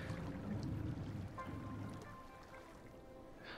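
Flood water flows through a city in Cities: Skylines in a soft, steady rush, quiet and continuous with faint splashy texture and no voices.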